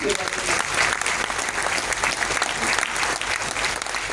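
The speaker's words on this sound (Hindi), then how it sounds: "एक बार तालियां बजा दो, एक बार उधर से।" A packed seminar crowd in Jalandhar claps loudly and continuously, thick overlapping applause filling the room for several seconds with a faint voice buried under it.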